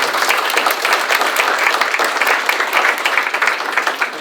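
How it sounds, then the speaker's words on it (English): Audience at a ribbon cutting ceremony giving a round of applause, a loud, even roar of many hands clapping at once, sustained without a break from start to finish. "how about a nice round of applause for Stephanie and the great work that you've done"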